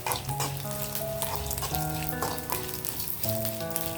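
Continuous crackling sizzle of food frying in a pan, close and steady, with faint tonal background music and no talking.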